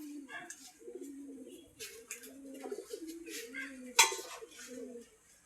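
Domestic pigeons perched in a row coo in low, repeated warbling phrases that overlap almost continuously, with a sudden sharp clatter close by near the end.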